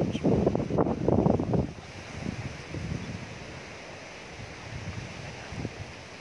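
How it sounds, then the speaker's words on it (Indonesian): A gentle breeze blows at an Aceh tomb, soft airy rustle and low wind noise, stronger gusts at the start then calmer steady whoosh. "sengaja musik saya hentikan supaya dapat mendengarkan angin sepoi-sepoi"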